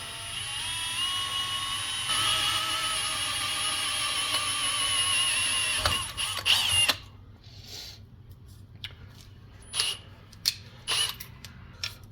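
A power drill runs a steady whine as a number 7 bit bores through the workpiece for a DIY oar-lock rod holder, then the tone cuts off and a few brief bumps and handling sounds follow.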